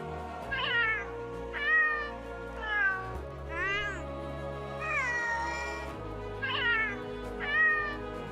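A cat yowls in the video game Monster Hunter World, a series of drawn-out rising and falling meows repeated about seven times over a low sustained musical backdrop.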